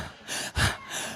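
A voice imitating panting, a few quick breathy huffs in and out, close and fairly soft, with no words.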